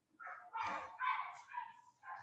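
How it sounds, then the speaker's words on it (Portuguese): Dogs barking outside, a short run of several yapping barks and yips in quick succession, fairly clear and close against an otherwise quiet background. "eu não tenho controle com os cachorros lá fora."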